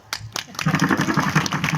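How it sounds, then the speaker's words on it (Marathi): Clapping in steady rhythm at a devotional kirtan, a crowd beating time together, moderately loud and continuous after a few scattered opening claps. "टाळ्या वाजवा"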